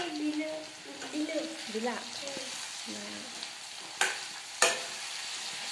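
Potatoes with red chilli and cumin fry in a pan on a gas stove, giving a steady soft sizzle with occasional louder stirring scrapes, under someone speaking.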